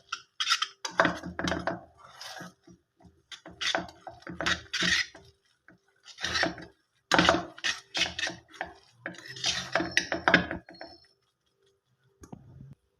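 A spoon or spatula scrapes and clinks against a bowl as a homemade skin-whitening mixture is stirred, in irregular bursts of clattering over about thirteen seconds with no voices.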